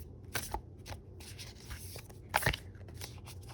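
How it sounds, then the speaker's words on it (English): A deck of oracle cards is shuffled close up and quietly, soft riffling swishes and light taps arriving in brief bursts, including a sharper flutter near the end. "So we're just going to shuffle."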